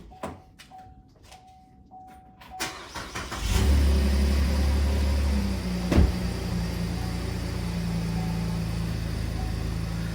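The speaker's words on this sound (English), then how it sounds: "I'm going to go ahead and start the truck." A truck starts up after a few quiet clicks and chimes: the starter cranks briefly, then the engine catches and settles into a steady, close idle rumble.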